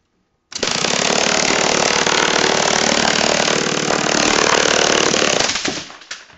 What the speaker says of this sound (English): Now the gun is ready to fire.